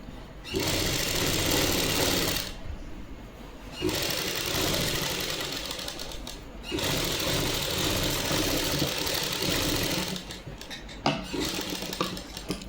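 Sewing machine stitching a Punjabi suit, running in three long, steady whirring bursts separated by short pauses, close and loud, ending with a few light clicks and no talk.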